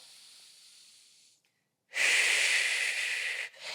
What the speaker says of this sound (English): I want you to take a big inhale in